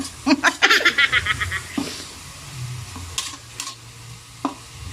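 Vegetables and ground meat for lumpiang hubad are stirred in a frying pan: a quick run of rhythmic scraping strokes at first, then softer sizzling with scattered clinks, close and moderately loud.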